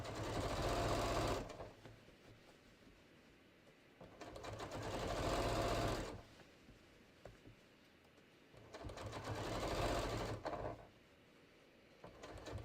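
A sewing machine runs top stitching on jeans in three long bursts of rapid whirring, each lasting a couple of seconds with brief pauses between, close and clear.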